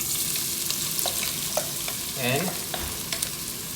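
Onions frying in hot oil for a chunky steak chilli, a steady loud sizzle with a few utensil scrapes and clinks of stirring throughout.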